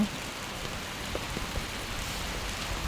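Steady rain pours down at a roadside food stall by a street intersection, a dense even hiss with scattered drops pattering on surfaces, close and continuous throughout.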